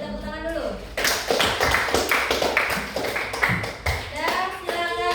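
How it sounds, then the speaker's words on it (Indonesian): Classroom applause for the first student group, a burst of hand clapping from a small audience that starts after a brief pause and continues steadily, with voices talking over it near the start and end. "Kita beri tepuk tangan dulu."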